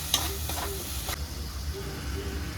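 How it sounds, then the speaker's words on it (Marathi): Chili powder, coriander-cumin powder and Kashmiri red chili powder roast in hot oil in a pan, with a steady close sizzle and a few soft stirring scrapes. "आता हे सर्व मसाले चांगले भाजून घ्यायचे तेल सुटेपर्यंत"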